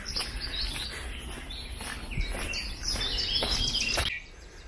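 Small birds trill and chirp in bright repeated phrases in sunny woodland near Carnac, Brittany, several calls overlapping close by before fading at the end.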